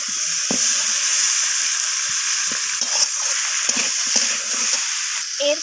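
Garlic and ginger paste fries with other ingredients for a rohu fish curry, a loud close sizzle broken by scraping stirs and clinks of a spoon against the pan.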